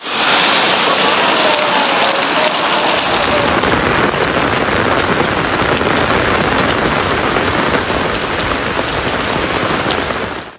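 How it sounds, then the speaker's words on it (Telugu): Heavy cyclone rain from Cyclone Montha pours down in Station Ghanpur, Jangaon district, a loud, dense, unbroken hiss of drops lasting throughout, with no voices. "జనగామ జిల్లా స్టేషన్ ఘనపూర్లో జడివాన కురిసింది"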